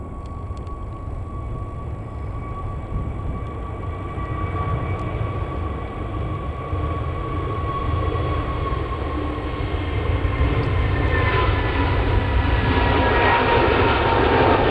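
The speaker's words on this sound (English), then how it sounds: "taking off now, we've got a Jet 2 going to Fuerteventura, Airbus A321neo" A Jet2 Airbus A321neo takes off at Manchester Airport, its engine roar a steady broadband rumble that slowly builds and brightens over about fifteen seconds, heard from a distance with no talk.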